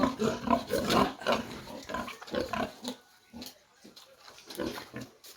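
Piglets a few days old squeal and grunt on a farm, a dense run of shrill, overlapping cries that is loud at first and then breaks into shorter, scattered bursts.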